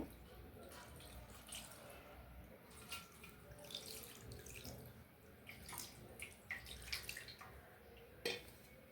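Something rinsed and washed under running water, a close splashing flow with uneven bursts, drips and the odd light clink of a vessel, while a voice talks intermittently in the background.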